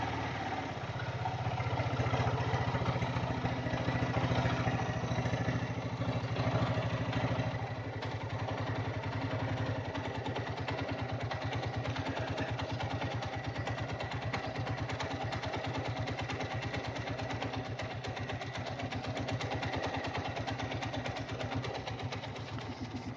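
A Hero Karizma-R motorcycle engine idles steadily at about 1000 rpm, a continuous mid-pitched throb with light mechanical clatter, close and loud throughout with no talking.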